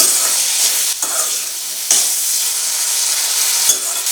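Small bitter gourd pieces salted and stirred in a hot pan, a dense close sizzle running throughout with a few scraping stir strokes, no talking.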